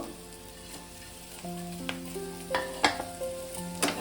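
Fish dropped into sizzling spice paste with onion flowers for an amudi fish curry, the pan crackling loudly with frying bursts and stirring scrapes, steady and close with no talk.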